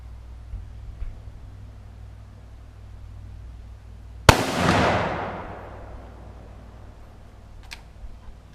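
A rifle fires a single 180-grain bullet at a radiator outdoors: one sharp, loud crack that rings away over a couple of seconds against a quiet background.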